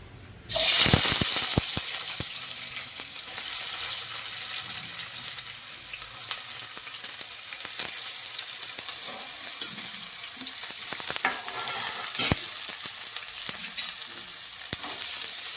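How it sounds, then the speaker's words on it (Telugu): Sliced onions dropped into hot oil in a pan, hissing in a sharp burst at first and then settling into a steady close sizzle with occasional stirring clatter. "నూనె అయితే వేడెక్కింది ఇంకా ఉల్లిగడ్డలు అయితే వేసేసుకుందాం"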